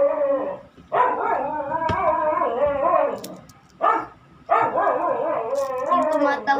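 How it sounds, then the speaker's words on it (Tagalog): A dog howls and yips in drawn-out, wavering bursts, loud and close, with short pauses between the cries. "Yung tumatahol guys, si Cholo yun."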